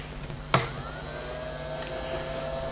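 An Enbio S autoclave runs with a steady low mechanical hum and faint whine, broken by two sharp clicks near the start and end; fairly quiet, with nobody talking.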